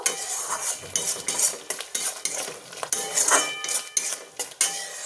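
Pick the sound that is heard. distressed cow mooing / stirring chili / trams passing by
stirring chili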